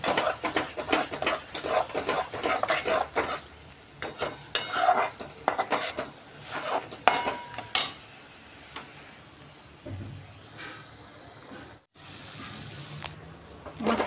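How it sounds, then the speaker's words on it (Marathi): Spices sauté in oil in a kadhai for cashew curry, with repeated metal spoon scrapes and clinks against the pan over a soft sizzle, close and busy, easing into quieter frying near the end. "छान आपले मसाले तेलामध्ये परतवून झालेले आहेत।"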